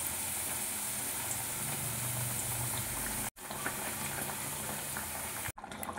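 Rohu fish curry simmers in a pot, giving a faint, steady bubbling hiss over a low background hum, broken by two brief dropouts.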